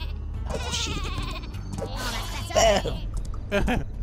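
Sheep bleating in the artillery game Worms W.M.D., a few wavering cries rising over game sounds while people talk throughout.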